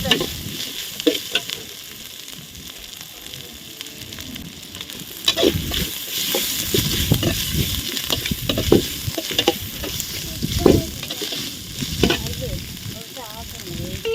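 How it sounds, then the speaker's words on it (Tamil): Steady sizzling and frying of ginger garlic paste in a pan for biryani, with occasional stirring scrapes and spatters, continuous throughout, no talking. "நல்லா பச்சை வாசனை போக வதக்கலாம்"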